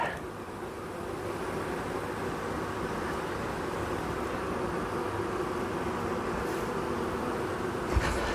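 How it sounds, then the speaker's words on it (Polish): A dense, steady buzzing of a swarming honeybee colony fills the air continuously, close and fairly loud, with a faint click near the end. "Tutaj jakaś kłęb, kłębek pszczół, trzeba sprawdzić dlaczego."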